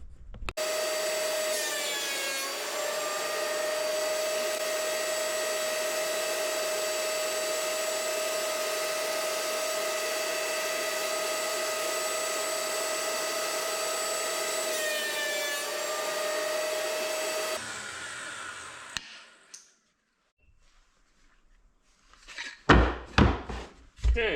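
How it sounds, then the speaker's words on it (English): A wood planer whines loudly and steadily for about seventeen seconds as boards for woven coasters feed through, its pitch dipping twice under load, then it spins down, followed by clattering and knocks of handled wood. "So let's go over to the planer."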